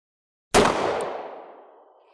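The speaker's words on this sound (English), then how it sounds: "You are going to get a much larger report related to the recoil on this guy" A single sharp .38 Special gunshot fired with an XTP bullet into a gel block, a loud close report at once followed by a long echoing decay that fades over about a second and a half, with no talk.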